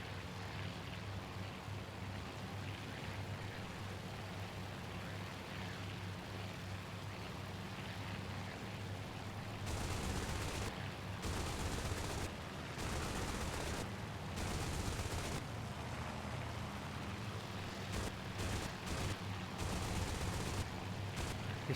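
Fighter aircraft cannon fire in the naval strategy game Task Force Admiral, bursts of rapid rattling shots in the second half over a constant engine drone, moderately distant, no talk.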